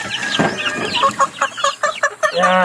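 Three-month-old backyard chickens cluck up close while being given wet feed, a quick run of short, choppy clucks and calls in an uneven rhythm.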